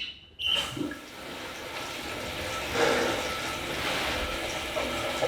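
Water rushes loudly into a newly installed toilet as its supply valve is opened, a sudden close gush that settles into a steady filling roar.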